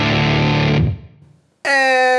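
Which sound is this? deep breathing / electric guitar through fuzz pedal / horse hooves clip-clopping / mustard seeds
electric guitar through fuzz pedal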